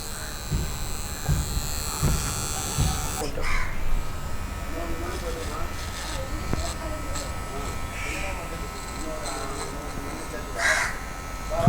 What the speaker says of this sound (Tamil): நம்ம பாத்ரூம் போகிற இடத்துல முடி ட்ரிம் பண்ணிடலாம்